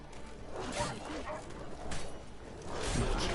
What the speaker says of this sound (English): Oh, just wild dogs.